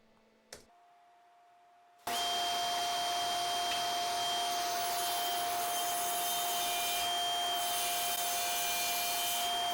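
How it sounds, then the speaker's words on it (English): A table saw rips lengthwise through a 2x4 for rough carpentry pieces, a loud steady roaring whine that starts abruptly after a brief quiet click and holds close and continuous to the end. "Following this, I drew them up on the table saw."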